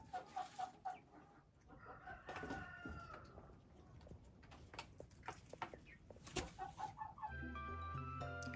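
Laying hens cluck and a rooster crows nearby on a backyard poultry farm, with repeated clucks and calls throughout, ending in a busier stretch of overlapping bird sounds.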